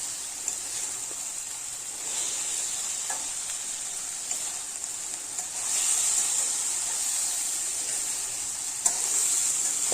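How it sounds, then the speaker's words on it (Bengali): Beans and potatoes fry lightly in a little oil, giving a steady, close sizzle with occasional stirring scrapes and a slight rise in intensity partway through, no speech. "লাইট সবজি এবং লাইটভাবে ফ্রাই করে নেব কিছুক্ষণের জন্য"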